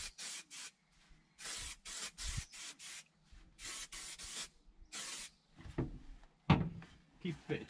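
Repeated short bursts of aerosol spray adhesive onto a VW T5 van panel for carpet lining, hissing in quick pulses, followed by rubbing and a knock nearby.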